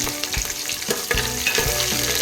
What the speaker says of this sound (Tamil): இப்போ நம்ம எடுத்து வச்சுருக்க பூண்டு ஒரு 10 பல்லு எடுத்து நான் அரிஞ்சு